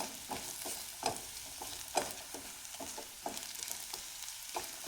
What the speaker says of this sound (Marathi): आपण एक अर्धा मिनिट आता छान परतून घेऊया